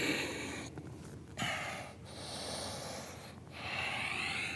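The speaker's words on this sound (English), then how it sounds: "A few deep breaths" Deep breathing during yoga practice, slow airy inhales and exhales close to the microphone, each breath drawn out with short pauses between.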